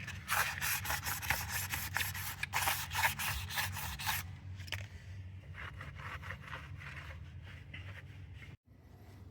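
Sandpaper rubs by hand across the surface of a Lexus CT200h cylinder head, a close rapid rasping scrape in quick strokes that turns lighter and slower after a few seconds, over a low steady hum.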